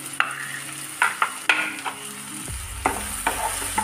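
Spices, ground coriander and cumin, frying with tomatoes in a pan, a close sizzle punctuated by sharp, irregular scrapes and knocks of a spatula stirring, without speech.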